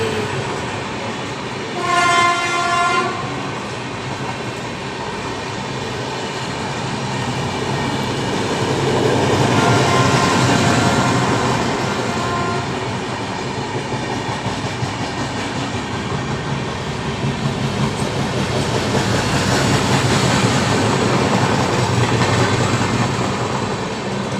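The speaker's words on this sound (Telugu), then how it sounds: "ట్రైన్ అయితే వెళ్తుంది." A train rumbles past, opening with a loud horn blast and then a steady, heavy rolling roar and clatter that swells and stays strong for more than twenty seconds, with no talking.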